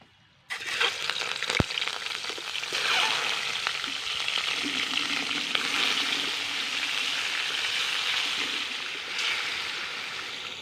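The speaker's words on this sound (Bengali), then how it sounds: "মানে হালকা একটু কড়াইতে তেল দিয়ে ভেজে নেবো" Chicken gizzards and liver sizzle in hot oil in a wok, a loud close crackling fry that starts suddenly and continues steadily, with occasional stirring clinks.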